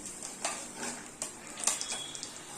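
Fenugreek seeds, chillies, cumin and coriander fry in hot oil while being stirred, giving a faint crackle with light clinks and scrapes of a spoon against the pan, no talk.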